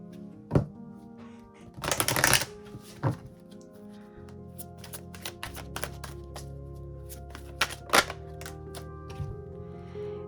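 Romance Angels oracle cards being shuffled and handled: a dense burst of riffling around two seconds, then scattered sharp card snaps and taps over a quiet background hum, no talking.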